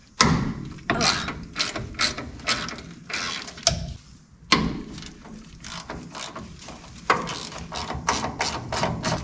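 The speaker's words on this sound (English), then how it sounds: "I am using the longest ratchet I own." A long ratchet works brake hardware loose on a 1970 Chevy C10, with rapid bursts of close, crisp clicking pawl strokes repeating in quick runs, briefly pausing between pulls.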